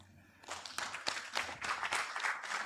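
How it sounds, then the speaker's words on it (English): Conference audience at a university breaks into clapping to welcome a speaker, starting after a brief quiet moment and continuing as moderate, scattered applause. "Let's welcome her with a clap"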